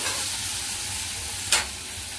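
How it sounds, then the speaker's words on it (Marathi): Soaked cashews in masala sizzle softly in a frying pan, a constant hiss with one brief sharp burst partway through, faint and close, no voices. "चांगलं हलवून घ्यायचं, 2-3 मिनिटं याला हलवत राहायचं"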